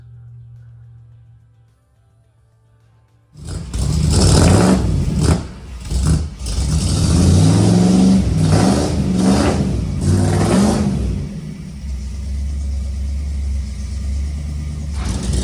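After a quiet moment, the fuel-injected engine of a 1962 Ford F100 fires up loud and close. It revs a few times, then settles into an uneven, loping idle.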